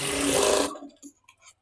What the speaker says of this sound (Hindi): अब मैं पट्टी की तरफ सिलाई लगा रही हूँ।